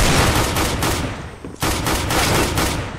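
Pistol shots in Counter-Strike: Global Offensive, a loud string of sharp cracks in quick succession, broken by one brief pause midway, with no talking.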